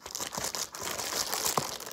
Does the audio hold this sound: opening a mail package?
yes